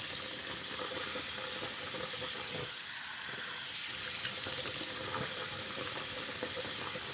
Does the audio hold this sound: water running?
yes